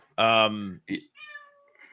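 A cat meows close by, one long drawn-out meow followed by a couple of shorter, softer mews, heard during a sports podcast.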